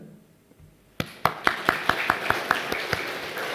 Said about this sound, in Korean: 여러분 한번 박수 한번 쳐볼까요?